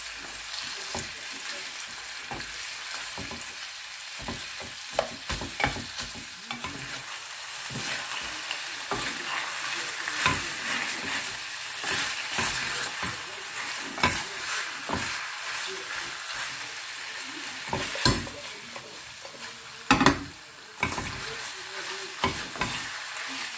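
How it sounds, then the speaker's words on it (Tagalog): Beef stir fry browns in a hot pan while being stirred, a constant sizzle broken by frequent scraping and clattering strokes of the utensil, close and busy, with a louder knock near the end. "You keep on stirring para hindi masunog"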